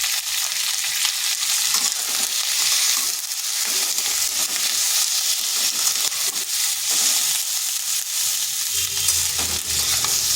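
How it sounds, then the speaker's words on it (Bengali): Chopped ivy gourd (kundru) frying in a pan with salt and turmeric gives a steady, bright sizzle with occasional stirring scrapes, continuous and close with no talking. "কুঁদরিটাকে একটু সময় ধরে ভেজে নিতে হবে।"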